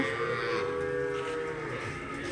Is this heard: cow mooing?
yes